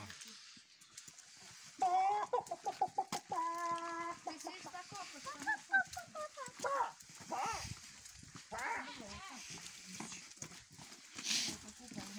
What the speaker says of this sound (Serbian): to su patke, brate, tamo su guske